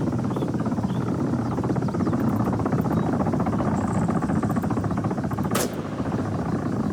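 A helicopter from the video game Arma 3 flies at a steady, loud, continuous drone with rapid rotor chop, and a brief sharp burst cuts through near the end.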